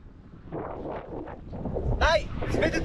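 Strong wind buffets the microphone during an ultracycling ride, making a constant rough rumble and roar that swells slightly over time. A voice speaks and exclaims over it.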